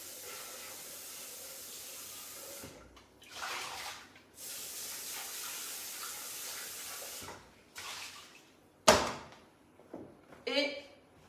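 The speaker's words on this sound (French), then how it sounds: "j'ai bêtement rincé mon bol, vraiment vulgairement" A bowl rinsed under a running kitchen tap: broadband water hiss runs in several bursts of a few seconds each, starting and stopping, with brief clatters near the end.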